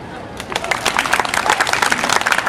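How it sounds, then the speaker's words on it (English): A street crowd in Old Montreal claps for a street performer, sharp scattered hand claps building into dense, lively applause with some voices in the mix, close and fairly loud. "Can you guys give me a round of applause for no reason?"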